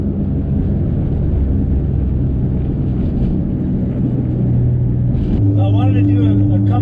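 A loud, steady low rumble and road drone from a moving 2008 Mustang GT500 with a worn front wheel bearing, with a voice speaking over it toward the end.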